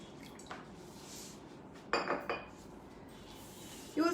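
Urad dal being rinsed in water inside a kitchen vessel for medu vadai: soft sloshing with a few sharp metallic clinks and knocks of the pot, spaced out over quiet background.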